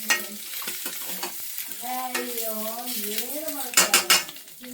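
Eggs fry and are stirred in a pan for an egg pepper dry dish, with metal utensil scrapes and clinks against the pan over a soft sizzle, while a voice talks over the cooking.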